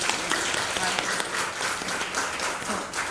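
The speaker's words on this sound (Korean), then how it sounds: "우리 다시 한번 하나님께 감사와 영광의 박수 올려드리길 원합니다" Steady applause from a church congregation during a Sunday morning service fills the space, a dense patter of many hands clapping together at a fairly even level throughout.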